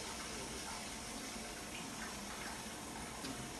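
Water pours steadily into the plastic reservoir of a Keurig Kold countertop drink maker, a continuous broadband splashing and trickling rush that stays close and even for several seconds with no talk.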